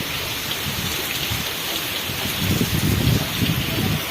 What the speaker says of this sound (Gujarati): વરસાદ પાછો ધબધબાટી બોલાવે